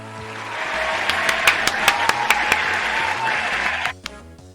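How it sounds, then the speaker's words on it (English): A soundboard applause sound effect: a burst of applause from a crowd, steady clapping with a few sharp claps standing out, cutting off abruptly near the end. "use the Seth, use the soundboard and use the applause sound effect so we can give James a nice warm round of ap"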